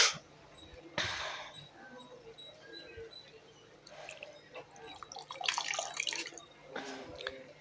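Soaked dried shrimp are squeezed out by hand in a home kitchen, giving soft wet squelches and dripping splashes of water, close and quiet, with a few louder splatters.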